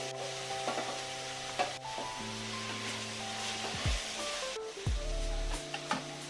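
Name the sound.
tomatoes added to frying ginger garlic paste in pan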